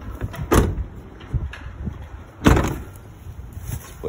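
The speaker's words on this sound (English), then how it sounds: "Split door." The split side door of a Ford Transit van opens with a couple of sharp latch clunks and a heavy sliding thud, close and loud in a quiet setting.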